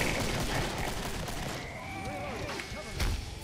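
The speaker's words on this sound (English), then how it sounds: "I get a bit brave with this Tommy gun." A Tommy gun fires in rapid bursts in the co-op zombie shooter Killing Floor, chattering over dense combat noise. A heavier thump comes near the end.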